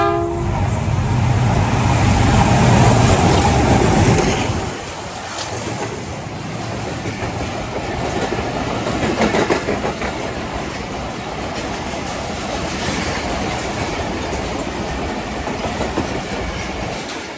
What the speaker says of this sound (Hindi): ये आ रही है 48 डाउन रहमान बाबा एक्सप्रेस। बहुत ही ज़बरदस्त स्पीड है इसकी यहाँ पे।